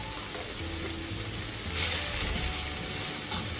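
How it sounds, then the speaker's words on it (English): Ginger and garlic paste sizzles in a pan for an Indian-style vegan pumpkin curry, a steady close frying hiss that surges louder midway as it is stirred. "now we can add in our ginger and garlic paste"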